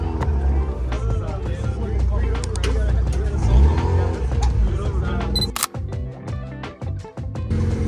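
Camera shutter clicks while photographing cars at an outdoor car meet with Hondas and an RX-7, a sharp click standing out over a busy background of crowd chatter and passing engine noise.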